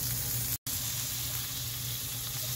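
Tomatoes frying in oil in a pan, a continuous bright sizzle that runs steadily except for a very brief cut near the start.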